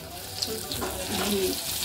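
Cauliflower pakoras frying in hot oil in a home kitchen during iftar preparation, a faint, steady bubbling sizzle with a few small clinks.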